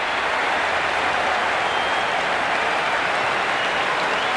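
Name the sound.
stadium crowd cheering in Cricket 26 video game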